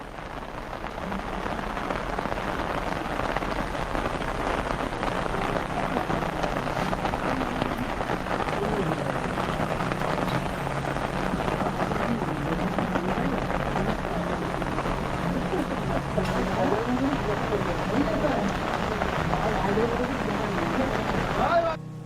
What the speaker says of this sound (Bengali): সুদন্যখালি ওয়াচ টাওয়ারের কাছে আসতেই বৃষ্টি শুরু হলো।